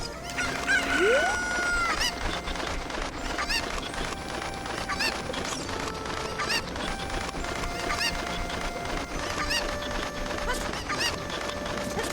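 Cuckoos, the chickens of the video game Zelda Ocarina of Time, cluck and squawk repeatedly in bursts across the scene, fairly close, over a steady bed of game ambience, with one rising crow-like call near the start.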